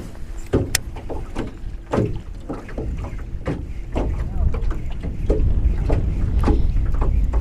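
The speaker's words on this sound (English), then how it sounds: "This wind is insane." Strong wind batters the microphone in repeated loud gusts and thumps while out fishing for bass from a small boat, with a continuous rushing roar underneath.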